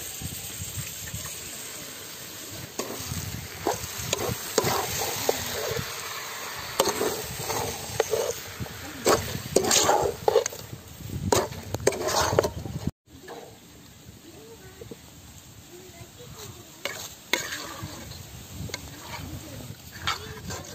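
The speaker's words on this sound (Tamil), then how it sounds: "மசாலாவோட இது போட்டு நல்லா வதக்கிக்கலாம்" Quail marinated in Sprite sautéing with masala in hot oil outdoors in a village kitchen, a steady sizzle broken by repeated stirring scrapes and clatters, close and fairly loud, with a brief dropout midway.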